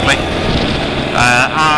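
A 2017 Honda NC750S DCT motorcycle engine pulls as the bike accelerates, its droning note climbing in pitch beneath a rider's steady talking.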